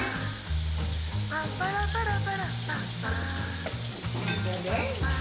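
Vegetables fry and sizzle steadily in a pan during home cooking, a constant crackling hiss with occasional stirring, while voices talk briefly over it.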